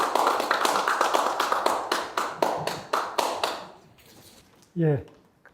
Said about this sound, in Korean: 정말 큰 환영의 박수로 맞아주시기를 바랍니다